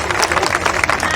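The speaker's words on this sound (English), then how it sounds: "Everybody clap your hands for Josh, please." Audience at a street performers festival show in Grande Prairie applauding a volunteer, a brief burst of crowd clapping, loud and close.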